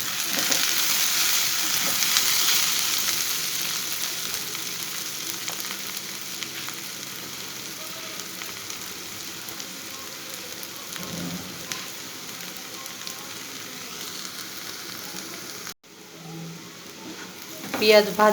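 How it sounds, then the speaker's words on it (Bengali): Continuous close-up sizzling of onions frying in a hot pan, a steady crackling hiss that briefly cuts out near the end. "পিঁয়াজ ভাজা"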